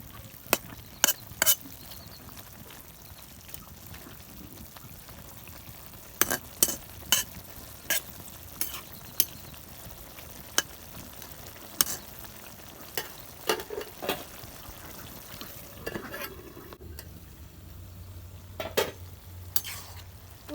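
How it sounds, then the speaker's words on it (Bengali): Malabar spinach and bata fish sauté in a pan, with a soft steady sizzle broken by repeated sharp scrapes and clinks of a spatula stirring against the metal, close and clear with no talk. "পুঁই শাক কষানো হয়ে গেছে"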